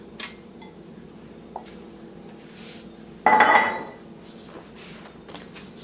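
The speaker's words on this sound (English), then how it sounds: "Just lay it on your pan." A brined potato laid onto a metal baking pan gives one short clatter of contact against the pan, near and fairly loud, with quiet room tone around it and a few faint clinks.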